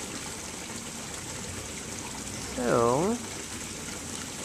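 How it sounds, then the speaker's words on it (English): A small garden pond waterfall pours steadily, a constant close wash of flowing water throughout, with a brief spoken word over it. "the waterfall looks pretty cool."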